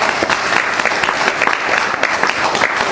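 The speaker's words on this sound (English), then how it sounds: "Give them a round of applause." Audience applause at a meeting: dense, sustained clapping from a crowd, loud and close, with no voices over it.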